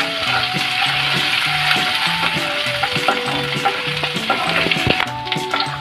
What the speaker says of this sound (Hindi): भून लेंगे ग्वार की फली